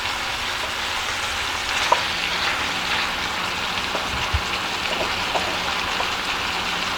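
Shrimp frying in a hot pan gives a steady, close hiss and sizzle with scattered faint crackles and pops, holding constant throughout with no voices.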